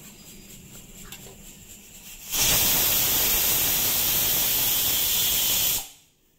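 A pressure cooker, used to cook a mutton and potato curry, vents steam in a loud, steady, close hiss lasting a few seconds before cutting off abruptly, after a quieter stretch of kitchen sounds.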